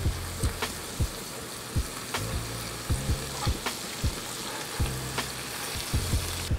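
Vegetables sizzle in a pan while garlic paste is stirred in, a steady fry broken by repeated thuds and scrapes of a spoon against the pan, close and with no talking.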